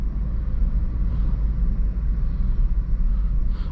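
A 2016 Range Rover Sport HSE on the move makes a steady, muffled low rumble of engine and road noise inside the cabin, with no one talking.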